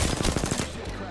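A rapid burst of automatic gunfire in the shooter game Apex Legends, loud and close, with several shots in quick succession that cut off near the end.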